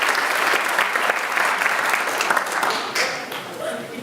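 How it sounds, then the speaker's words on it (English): A congregation applauds Mario at a Unitarian assembly service, a steady, close wash of clapping that holds for about three seconds and then thins out near the end. "let us give a nice round of applause to Mario for helping us light the chalice here today"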